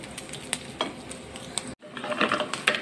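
A leftover beef patty sautés in a pan, sizzling close while a utensil scrapes and stirs in uneven strokes, with a short break before the frying resumes.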